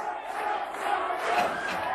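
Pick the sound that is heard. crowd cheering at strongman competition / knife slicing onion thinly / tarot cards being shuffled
crowd cheering at strongman competition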